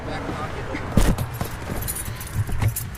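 Car keys jangle in a brief metallic rattle, loudest near the start, amid outdoor bustle at a historic car race parade at Lime Rock, with voices talking nearby and engines in the background.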